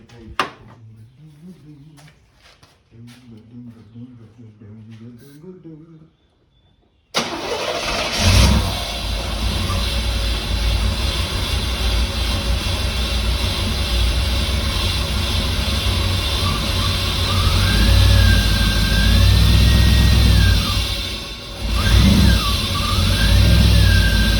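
A 1989 Pontiac Firebird with only 10,000 original miles, running on brake cleaner. It cranks after some quiet handling noises, then catches and revs loudly and steadily, rising and falling up close, with a brief dip near the end.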